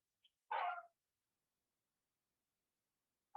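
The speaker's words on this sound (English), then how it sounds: "my doggy is barking like crazy in the background" A dog barks in the background of a home, one short sharp bark and then the start of another, faint and distant with quiet between and no talking.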